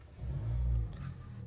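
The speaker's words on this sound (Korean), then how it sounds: "직렬 4기통 2리터 자연흡기 엔진은 초기 시동 시에 굉장히 좀 부드럽고요" A Kia K5 with a 2.0-litre naturally aspirated inline-four turns over and settles into a low, smooth idle rumble at close range, swelling briefly before easing off, with no talk.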